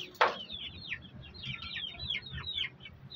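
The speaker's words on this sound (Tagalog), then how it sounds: "So ito yung ating nag-iisang brood hen guys. So nangingitlog na to." A laying brood hen clucks close by in a short series of soft, rhythmic clucks, opening with one sharper call, over a low farmyard hum.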